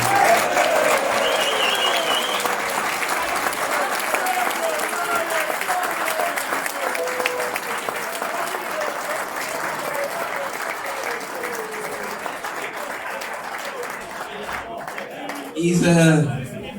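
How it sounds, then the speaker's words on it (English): Audience applause at the Albion Sports 50-year presentation in the Lyceum Bar & Grill, Bradford: sustained, dense clapping from a room full of people, tapering slightly before a voice speaks near the end. "this guy again deserves a massive round of applause"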